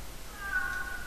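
A single short meow from a cat in the horror video game Calling, faint and thin over a steady background hum, with nobody speaking.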